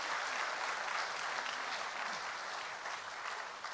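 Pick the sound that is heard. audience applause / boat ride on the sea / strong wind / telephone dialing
audience applause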